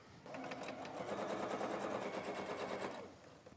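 A sewing machine stitches fabric squares together for a star and cross wall hanging in one fast, steady run of needle clatter, close and moderately loud, with no talk.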